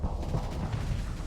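Torpedo explosions in the space combat game Starsector, a dense continuous rumble of booming blasts with low-frequency weight that rolls on without a break.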